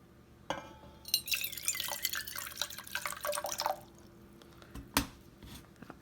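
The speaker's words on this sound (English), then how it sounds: "And then add some water." Hot water trickles and splashes into a Linkit 20 oz tumbler in a short, close burst of pouring, with a few sharp clinks before and after.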